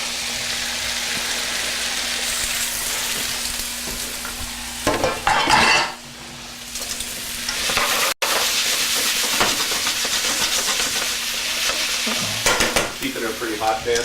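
Garlic, onions and mushrooms frying in a very hot pan, with a steady loud sizzle and hiss throughout, broken by close stirring and scraping sounds at several points.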